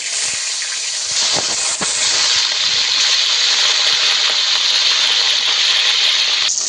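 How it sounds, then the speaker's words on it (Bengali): Hilsa fish marinated with salt, turmeric and ginger fries in hot oil, giving a loud, steady hiss and crackle that runs unbroken throughout, with a few faint clinks near the start. "লবণ হলুদ আদা দিয়ে ম্যারিনেট করা ইলিশ মাছটা ভেজে নেব"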